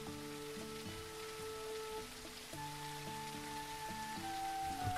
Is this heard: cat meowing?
no